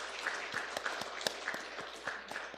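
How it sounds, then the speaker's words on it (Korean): A church congregation at a Sunday service gives a quiet round of applause, soft and somewhat distant, with a few sharper individual claps standing out from the low wash. "박수 한번 보내주시기 바랍니다"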